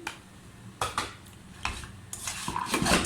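A spoon scrapes and clinks against a bowl while date and tamarind chutney is mixed into potato and black chickpea chaat, giving irregular metallic knocks and rubbing strokes, fairly close and with no talking.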